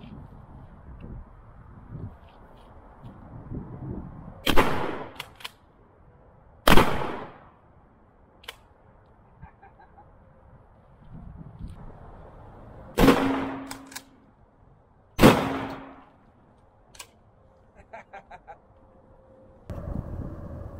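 A shotgun fires Terminator shells loaded with two slugs and BBs, outdoors; several loud, sharp blasts ring out at irregular intervals over about twenty seconds, each followed by a short decay, with quiet gaps between.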